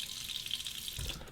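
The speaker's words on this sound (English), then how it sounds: "soak it under the cold water." Cold water runs from a tap over an alum block, giving a steady, close splashing stream with a brief heavier gush near the end.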